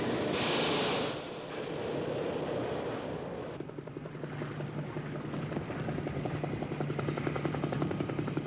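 A helicopter flies over the Tabasco swamplands near La Venta in Mexico, its loud, steady rotor chop and engine roar filling the scene throughout.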